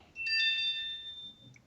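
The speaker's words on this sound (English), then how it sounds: "Damn it, phone." A phone ringtone sounds once, a short bright electronic chime of a few sustained tones lasting about a second, clear and alone over quiet background.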